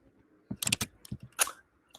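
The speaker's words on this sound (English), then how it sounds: "I'm typing, does it sound like I'm typing your name?" Brief bursts of computer keyboard typing in quick irregular clusters, fairly close and moderately loud, separated by short pauses in an otherwise quiet room.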